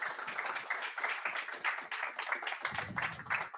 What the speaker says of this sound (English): But round of applause for the guests